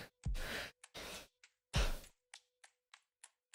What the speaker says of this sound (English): My dog is snoring.